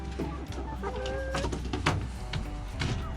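Backyard chickens, including Wyandottes, cluck and call softly at close range, with scattered bird sounds and light shuffling around the coop.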